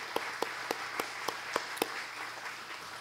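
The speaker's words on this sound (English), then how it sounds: "So if you could please thank them with an applause" Scattered handclaps from a small audience at a county 4-H fair queen contest: about seven separate, fairly faint claps spaced evenly apart, then they stop and leave quiet room tone.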